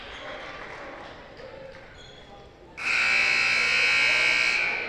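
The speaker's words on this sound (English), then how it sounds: "The buzzer sounds." A loud, sustained electronic buzzer sounds in a high school basketball arena during a holiday tournament game, cutting in sharply after a stretch of crowd murmur and lasting a couple of seconds.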